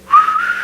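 A single person whistles one short, clear, sustained high note that starts abruptly and holds steady at close range, alone without any talk.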